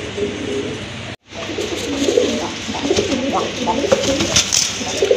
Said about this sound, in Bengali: আরেক জোড়া অ্যাক্টিভ কবুতর দেখতে পাচ্ছেন, খুবই সুন্দর ডাকে কবুতর জোড়া